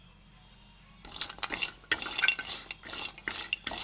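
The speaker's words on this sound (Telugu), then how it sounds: "ఈ కొబ్బరి మొత్తం మంచిగా వేయించుకోవాలి" Grated coconut frying in a kadai for cobbari karam, a light sizzle with irregular scrapes and clinks of a spoon stirring against the pan, close, starting after a quiet second, with no voices.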